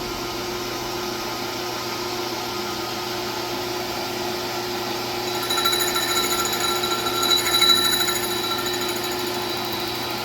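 A machine tool runs under power feed while machining a part for a FueLab Prodigy fuel pump setup on a Dodge Stealth, a steady mechanical hum with constant tones that grows slightly louder and grittier midway, with no talking.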